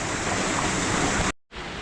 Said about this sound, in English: There's a couple waterfalls down there.